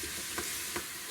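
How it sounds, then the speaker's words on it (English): Chicken masala and spices stir-fry in a pan with a little water, giving a continuous close sizzle broken by two soft scraping stir strokes. "stirring it, keep frying it so the fragrance comes out from the spices"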